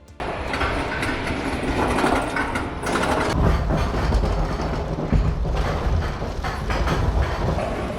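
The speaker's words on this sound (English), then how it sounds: "the iconic clanking of an Aero Development's lift hill" The anti-rollback on an Arrow Development roller coaster lift hill clanks as the train is hauled up, a loud, continuous mechanical ratcheting with rumbling rail noise underneath and no talking.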